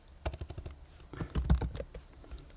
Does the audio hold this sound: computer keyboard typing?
yes